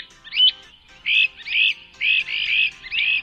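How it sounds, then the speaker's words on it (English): A great crested flycatcher gives a run of rising, burry whistled calls, five or six short phrases in quick succession, clear and moderately close against a quiet background. "Today's respect-demanding featured feathered friend, Myarchus crinitus, the great crested flycatcher"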